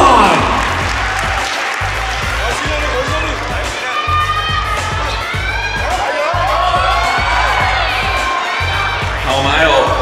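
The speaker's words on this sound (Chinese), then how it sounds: "我们给一号赛道王子君的掌声鼓励，给他能量" An audience at a strongman competition claps, cheers and shouts continuously, loud and dense throughout, while an announcer talks over the crowd.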